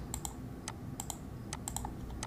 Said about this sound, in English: I could hit the keyboard shortcut Control Shift O